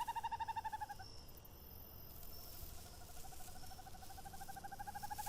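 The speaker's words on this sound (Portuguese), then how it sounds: "A coruja orelhuda, a assassina silenciosa que dominava os céus de Sonora." A horned owl calls at night in Sonora, a few deep rhythmic hoots set over a dense, constant chorus of crickets and insects, the owl moderately near.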